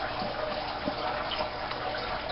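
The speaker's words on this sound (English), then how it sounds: "the water obviously is taken from inside the tank, from this right here. The water goes in here" Water rushing steadily through a canister filter on a turtle tank, a constant close, even gush with no voices.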